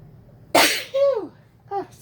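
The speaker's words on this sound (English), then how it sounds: "I feel a sneeze coming." A single sharp, loud human sneeze bursts out close to the microphone, followed by a brief voiced exhale and a short second vocal sound.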